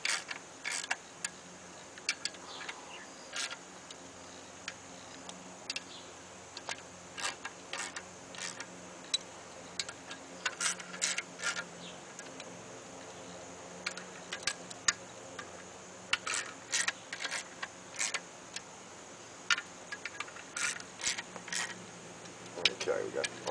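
Bolts on a clutch pressure plate for a removed 1983 Toyota 22R engine are tightened down, with soft, scattered ratchet clicks in short runs over a faint steady hum, quiet and close.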